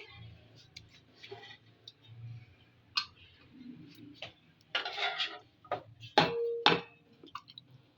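Korma spooned into a greased cooking pot for mutton biryani, heard as scattered light ticks and scrapes with a few louder metallic clanks of spoon against pot near the end, no talk.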